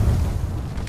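A thermite grenade explodes in the video game Apex Legends, a short, loud, low boom with rumbling body that fills the whole brief moment.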